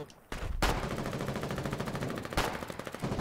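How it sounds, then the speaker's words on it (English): Rapid machine-gun fire in the war video game Foxhole, with sustained bursts of fast, evenly spaced shots after a brief lull and sharp louder reports standing out within the stream. "Just keep shooting."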